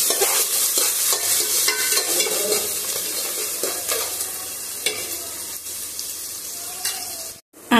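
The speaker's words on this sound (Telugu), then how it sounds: "ఉల్లిపాయలు వేసాక ఒకసారి కలుపుదాము" Sliced onions sizzle and crackle in a hot pan while being stirred for a Gongura chicken curry, with steady frying hiss and scraping strokes throughout, close and loud, briefly dropping out near the end.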